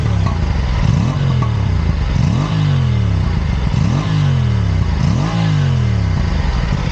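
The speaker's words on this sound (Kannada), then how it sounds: "ಬರ್ತಿದೆ ಲೈಟ್ ಲೈಟಾಗಿ ಆ ಪಾಪ್ ಸೌಂಡ್ ಕೇಳ್ಬೋದು" An Aprilia RS 457 motorcycle revving repeatedly, its engine note sweeping up and dropping back again and again, loud and close, with crackling exhaust pops and clatter mixed into the steady roar.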